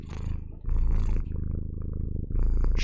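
A pet cat purring close up, a loud rumbling purr pulsing with each breath in and out across several cycles, with no talking.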